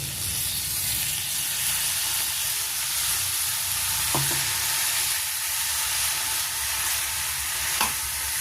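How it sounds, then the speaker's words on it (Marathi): A paste of ground roasted sesame, fresh coconut and peanuts being stirred in a pan, giving a steady loud sizzle and hiss throughout with a couple of brief scraping knocks from the spoon. "आता आपण हे जे तीळ, ओलं खोबरं, शेंगदाणे हे भाजून घेतलेले आहे त्याचं वाटण आपण टाकत आहोत"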